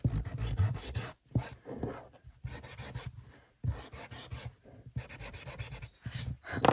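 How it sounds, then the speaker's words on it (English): Sandpaper rubs around the edge of a Halloween junk-journal craft piece in short, close bursts of rasping strokes separated by brief pauses. "sand round the edge."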